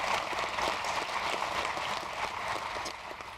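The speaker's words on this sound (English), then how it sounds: "Let's give her a round of applause." An audience at a New York State economic agenda event applauds, a steady, fairly faint patter of many hands clapping that continues evenly throughout.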